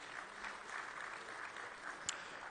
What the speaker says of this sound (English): can you kindly give her a warm round of applause once again?